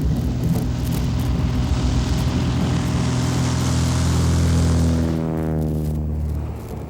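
A light tow plane's engine drones steadily at high power as it pulls a glider for takeoff, a loud continuous roar with wind noise that rises in pitch near the end, no voices.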